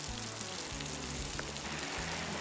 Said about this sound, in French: On va venir y mettre des lamelles à cuire directement dans le beurre. Là, ça chante.